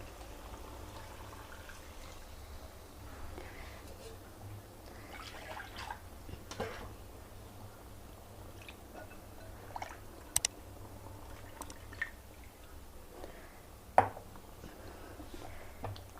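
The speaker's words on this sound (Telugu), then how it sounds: "ఇప్పుడు మనము ఈ నీళ్ళు వేసుకోవాలండి" Quiet liquid sounds as water is added to a pan of tomatoes and oil for brinjal sesame curry, soft drips and bubbling with occasional sharper splashes and clinks over a low steady background.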